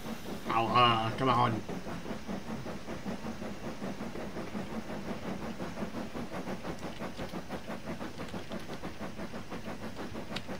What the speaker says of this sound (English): I'm giving people a real noise now with this engine.